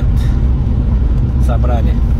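A cargo truck pulling up at a scrap-metal yard gives a low, continuous engine rumble close by, with voices talking over it throughout.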